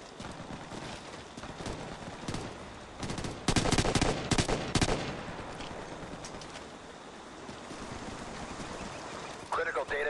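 Gunfire bursts from the Ghost Recon Future Soldier video game, a dense cluster of loud shots in the middle set against a continuous battle soundscape, with radio-style game voices heard intermittently.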